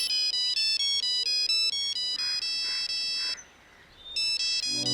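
A mobile phone ringtone plays loud and close as repeating electronic tonal phrases, pausing briefly before starting again, with no talk over it.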